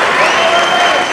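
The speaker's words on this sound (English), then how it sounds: "as this crowd shows their appreciation for a solid" A crowd applauds and cheers after a triangle-choke submission win at a Hook n Shoot fight event, a dense, loud burst of clapping sustained for the whole short moment.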